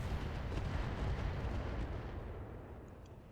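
Artillery fire in a BattleTech mech combat game: a dense, rumbling barrage of booms washing together, loud and continuous, then fading slightly over a few seconds.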